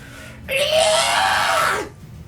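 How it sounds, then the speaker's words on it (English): A high-pitched screech sound effect bursts in for about a second and a half, a loud shrill wail that bends upward then cuts off. "is that the extra sound? Yeah, high-pitched screech."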